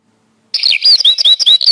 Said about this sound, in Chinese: 百灵鸟